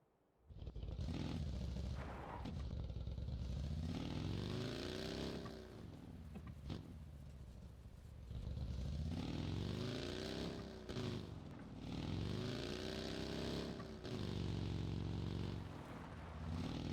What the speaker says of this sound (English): The engine is loud as crap.